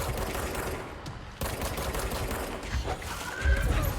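Rapid bursts of gunfire in the video game Control, dense and loud, with the shots running together in fusillade-like volleys and no speech over them.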